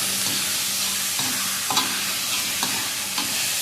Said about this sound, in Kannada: ಈಗ ಎಣ್ಣೆಯಲ್ಲಿ ಫ್ರೈ ಆಗಲಿ, ಮುಚ್ಚಿಡುವ.